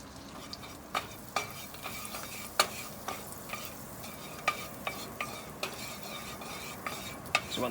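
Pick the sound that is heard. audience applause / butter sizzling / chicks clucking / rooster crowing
butter sizzling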